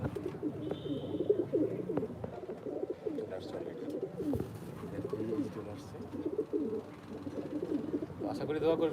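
Pet pigeons of a fine bloodline, a male and a female, coo in low repeated throaty calls close by while someone talks over them.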